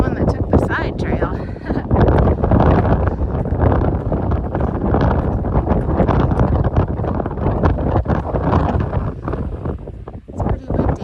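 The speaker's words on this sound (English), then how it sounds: "It's pretty windy." Strong wind on the Appalachian Trail buffets the microphone steadily throughout, a loud low roar with gusty surges and no pause.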